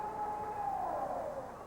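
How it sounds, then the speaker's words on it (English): Siren wails steadily from a wrecker truck at a 1990 4x4 jamboree in Bloomsburg, Pennsylvania, a continuous tone that rises and then falls away, heard alone at moderate loudness. "Siren blaring, lights blaring. It's got to be a wrecker out of New Jersey."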